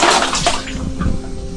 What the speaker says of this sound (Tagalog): Tuloy-tuloy ang daloy ang tubig